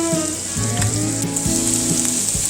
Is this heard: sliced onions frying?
yes